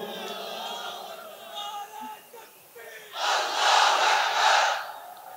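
A large crowd at a memorial farewell gathering roars a takbir slogan in unison, a loud swelling collective shout that rises in two surging waves after a voice leads it.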